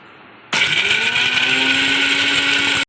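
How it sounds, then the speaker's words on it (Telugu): A kitchen mixer grinder starts abruptly and runs at a loud, steady whir, grinding dried red chillies, fennel seeds, cloves, cardamom, cinnamon and unpeeled garlic into a coarse masala, then cuts off near the end. "ఈ మసాలాని మనం మిక్సీ పట్టుకోవాలండి"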